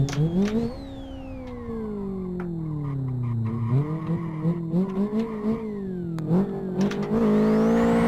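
A tuned Renault Megane drifting with the handbrake, its engine revving up and down in long swells while tires squeal and skid repeatedly, loud and close throughout.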